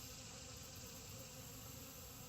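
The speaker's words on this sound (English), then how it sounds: "All these bees are from one colony." Bees from a single colony hum in a continuous low, even drone, faint and steady throughout with no other sounds.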